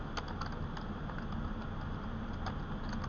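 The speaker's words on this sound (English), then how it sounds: "and I'm going to start typing." Faint, quick key taps on a computer keyboard while typing a numbered list in Word, soft clicks under a steady hum of background noise.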